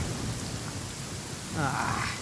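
Rain falls steadily during a video game lightning storm, with a low rumble and a brighter surge of rain or thunder near the end. The sound is dense and continuous, and no one speaks.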